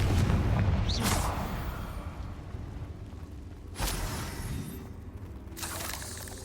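A Confringo blasting spell explodes in Hogwarts Legacy, producing several loud booming bursts with whooshing tails against a steady rumbling game background, without talk over them.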